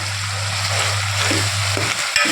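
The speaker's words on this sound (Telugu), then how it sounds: "ఇప్పుడు దీన్ని మొత్తం మనం కలిపేసుకొని" Mutton keema with fenugreek frying in a pan gives a continuous close sizzle while it is stirred, with a few soft scrapes toward the end.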